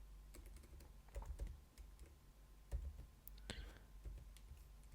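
Quiet keystrokes on a computer keyboard while writing code for a portfolio website, irregular clicks close by with low murmured sounds in the background.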